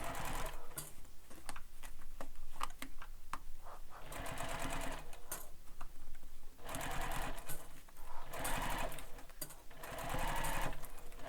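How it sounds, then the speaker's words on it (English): A sewing machine bastes all the way around a sling pack, running in bursts of rapid, even stitching separated by short pauses, close and steady throughout. "So I'm just sewing all the way around"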